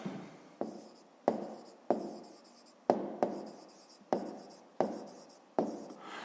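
A pen writes a math exercise answer by hand on paper, producing about ten short scratchy strokes in an uneven rhythm, close and clear with no talking.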